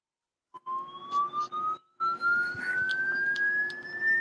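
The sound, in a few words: police sirens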